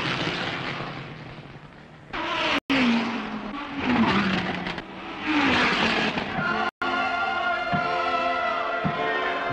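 Ford Rondeau race cars at the 1983 Le Mans 24 Hours, engines roaring past on track with rising and falling pitch, loud and continuous with brief dropouts, no talking.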